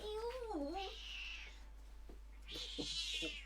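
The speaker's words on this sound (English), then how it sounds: "Tending to the cat." An upset cat yowls in drawn-out, wavering cries, faint and somewhat distant, followed by a few softer vocal sounds.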